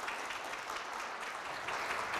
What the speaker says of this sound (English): Applause for Mr. Scandlen